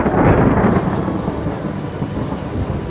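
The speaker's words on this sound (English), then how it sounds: "the rain arrived" Heavy rain during a sudden thunderstorm in the streets of Kuala Lumpur, Malaysia: a dense, steady roar of downpour with low rumbling, loudest at the start and continuing without pause.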